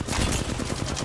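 Rapid gunfire from the video game Apex Legends, a dense burst of sharp repeated shots rattling off in quick succession, loud and close, with no talk.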